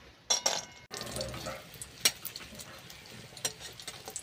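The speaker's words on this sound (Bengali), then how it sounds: "প্রথমে আমি বড়িগুলো ভেজে তুলে নেব।" Bori lentil dumplings frying in white oil in a kadai for a bottle gourd curry, a soft steady sizzle with sharp crackling bursts and a few utensil clinks nearby, no talking.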